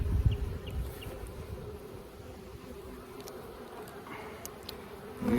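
A steady, low drone of many honeybees buzzing close by at an open Langstroth hive, rising slightly at the end, with no talking.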